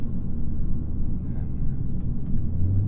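A 2027 Mini JCW Convertible engine with its piped-in synthetic sound switched off, heard from the cabin as a steady low rumble that holds even throughout without a voice over it.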